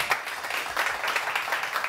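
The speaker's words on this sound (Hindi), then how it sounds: "आज ताली होनी चाहिए मेरे लिए" Studio audience on a TV morning show clapping, a dense, bright patter of applause that swells and eases in uneven waves, fairly close and without talk.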